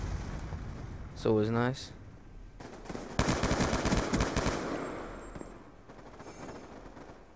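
Bursts of rapid automatic gunfire ring out in a Black Ops 2 multiplayer match on PC, with loud clustered volleys in the middle. Someone talks casually over the game sounds, and faint electronic game tones follow the shooting.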